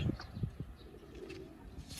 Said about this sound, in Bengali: এই হলো মাদি কবুতরটা